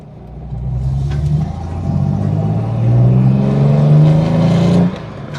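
A Ford Capri 2.8 Injection engine pulls hard through the gears, with loud, close rising revs that climb in repeated sweeps and then drop off sharply near the end.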